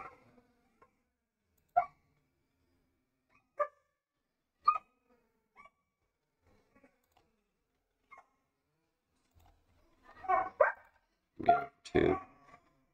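Several dogs bark in short separate bursts at a distance, a few isolated yelps early on, then a louder cluster of overlapping barks near the end, heard behind an online card game of Magic: The Gathering.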